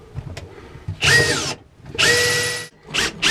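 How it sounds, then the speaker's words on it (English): A power drill bores pilot holes through formica for a hole saw during a sailboat shower install: two loud, sustained whining bursts with a shorter third run, close up, separated by brief pauses and handling noise. "Now I'll just use this to pilot through my hole saw. And I want to pilot the 4 bolt holes"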